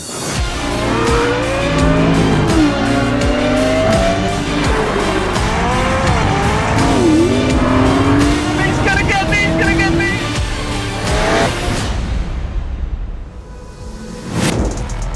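A Lexus LFA and an Audi R8 V10 Spyder, both naturally aspirated V10s, roar through a drag race with loud rising revs, gear changes and tire squeal, then fade away near the end.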